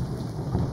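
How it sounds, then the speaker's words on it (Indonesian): Thunder in the Dinkum video game, a low, loud rolling rumble over steady rain, heard for under a second without any talk. "Wastaga. Petir."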